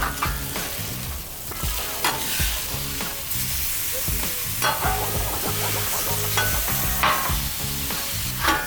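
Onions fry on a flat-top griddle with a steady, close sizzle, punctuated by periodic scraping and tapping from a metal spatula turning them; no one speaks.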